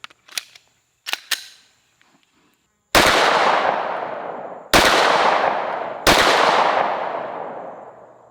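Three loud, sharp pistol shots fired at a target by a handgun fitted with a Vortex Venom red dot, each with a long ringing decay, preceded by a few faint clicks and handling noises.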